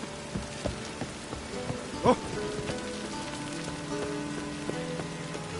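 Steady rain patters on surfaces in The Witcher 3, a dense, even hiss of drops close by, with a sharp louder splash midway and faint in-game tones beneath it.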